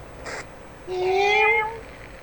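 A person gives a single drawn-out meow in imitation of a cat, clear and close, after a short burst of noise, during Euro Truck Simulator gameplay.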